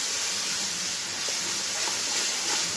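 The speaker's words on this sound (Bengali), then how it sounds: "সামান্য জল দিয়ে মশলাটাকে এবার আমি কষিয়ে নিচ্ছি" Masala of coriander, cumin and turmeric cooks with a splash of water in a pan, giving a steady, loud, close sizzling hiss that runs unbroken throughout, with no talking.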